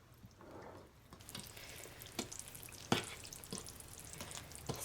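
Vegan lemon cake batter being stirred in a bowl, quiet wet squelching and sloshing with occasional sharper clinks of the utensil against the side, close and soft.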